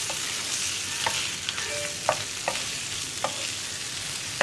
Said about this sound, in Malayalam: നമുക്കിതിലേക്ക് നമ്മൾ വേവിച്ച് വെച്ചിരിക്കുന്ന ഉരുളക്കിഴങ്ങ് ആഡ് ചെയ്യാം. ഇനി ഒന്ന് നന്നായിട്ട് ഇളക്കി മിക്സ് ചെയ്തെടുക്കുക.